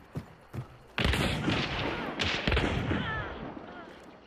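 Gunshots in Hunt: Showdown, first two sharp isolated cracks, then a heavy sustained volley of booming fire with echoing tails, fairly loud, with a voice speaking during it.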